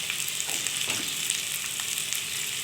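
Ginger hits hot oil in a frying pan while potato and pointed gourd curry is cooked, giving a steady, close, bright sizzle with faint stirring throughout and no talk.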